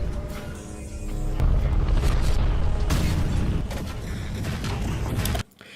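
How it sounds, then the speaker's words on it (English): Bolter gunfire in the Warhammer 40k game Dawn of War 2 comes as dense, loud booming bursts that run almost continuously, then cut off sharply near the end. "not terrible sounds for the bolters at all"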